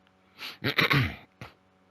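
A man coughs close to the microphone, one harsh hacking burst followed by a short second cough, with nothing else in the background.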